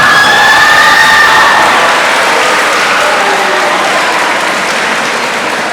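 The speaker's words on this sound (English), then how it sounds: "So let's give her a round of applause." Loud, sustained applause with cheering and whistles for the principal at a middle school awards day, a thick roaring crowd that slowly fades as the clapping winds down.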